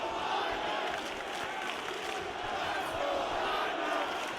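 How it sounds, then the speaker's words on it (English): A crowd in the EA Sports UFC 3 video game chants "Let's go Weidman" as a dense, steady roar filling the arena, with no pauses. "Let's go Weidman chant reading through the crowd"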